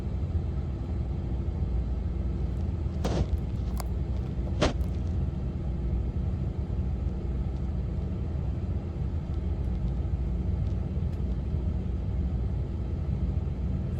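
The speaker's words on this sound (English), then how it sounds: "Here comes the semi." A semi-trailer truck rolls past as a low, steady rumble that holds at the same loudness throughout, with a couple of brief sharp clicks early on and no voices.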